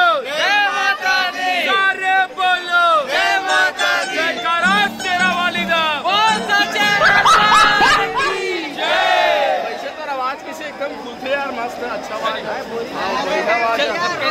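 A large crowd of devotees at Maa Bamleshwari temple in Dongargarh, Chhattisgarh, during Navratri: many voices chant and shout together in loud, sustained waves, with chatter mixed in throughout.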